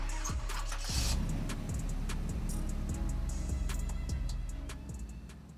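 A car engine starts and revs as the vehicle pulls away in a hurry, a throaty rumble with sharp clicks and clatter near the start, steady then gradually fading.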